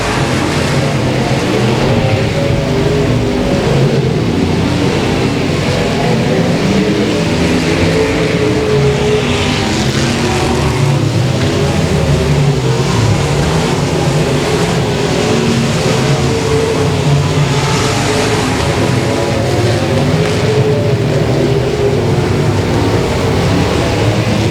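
Race cars circle the dirt oval at Boothill Speedway, a steady loud engine roar that swells and fades as cars in different lanes pass, continuous throughout with no talk.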